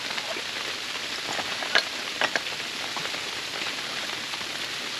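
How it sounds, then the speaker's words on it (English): Sleet pattering steadily on the canvas of a heated tent during an ice storm, a soft continuous hiss dotted with a few sharper close ticks of pellets striking, with no talking. "Just listen to that sleet come down as we get this fire going again."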